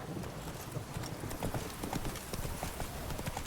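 Horse hooves clip-clopping in The Witcher 3, a steady run of close, even hoof strikes with faint low talk underneath.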